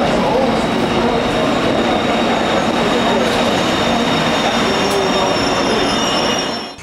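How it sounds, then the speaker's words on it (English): A train rumbles loudly and steadily past at close range at a German train station, with high metallic wheel squeal ringing over the noise, fading at the very end. "Here we are at the train station"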